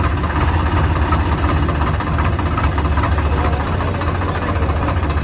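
A tractor engine idles steadily with a deep, continuous rumble that does not change across the whole stretch.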